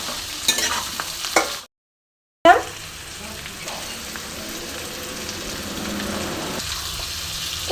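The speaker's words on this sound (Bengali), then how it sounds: "একবার নাড়াচাড়া করে নেব।" Fish head and Malabar spinach being stirred in hot oil in a pan, soft scraping and sizzling with a brief silent gap, then a steadier fry continuing close by.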